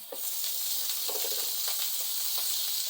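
Precooked meat reheating in a hot pan, sizzling in a continuous bright hiss with faint pops and crackles, close and alone without talk.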